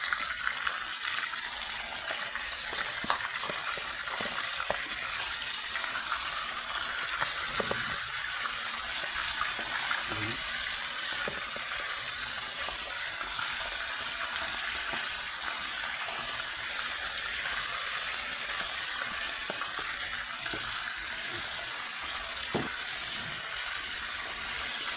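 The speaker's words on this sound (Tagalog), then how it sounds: "mainit na yung ating pipirituhin na natin ang ating mga isda" Salted and peppered bullet tuna fries in a hot pan with a steady, broadband sizzle throughout. Faint occasional clicks and taps sound underneath, with no talking.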